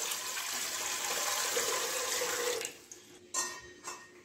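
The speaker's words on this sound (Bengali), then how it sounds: "তাতে আমি কিছুটা জল দিচ্ছি।" Water poured from a tap into an aluminium pot in a home kitchen, a steady close hiss and splash that stops partway through, followed by a couple of brief clinks and splashes.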